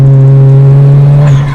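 A BMW 335i with the N54 twin-turbo engine and an added sound tube, making a loud, steady droning rev held near the car before easing off at the end.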